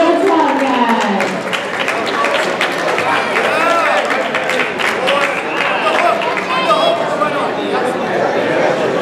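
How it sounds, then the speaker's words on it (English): Audience at a jiu jitsu championship breaking into applause, dense steady clapping and crowd chatter filling the hall throughout, with voices talking over it. "Give a round of applause, guys."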